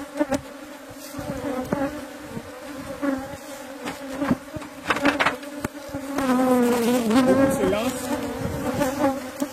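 Honey bees buzz around a hive, a dense close hum of many wings with individual insects droning past, swelling louder toward the end.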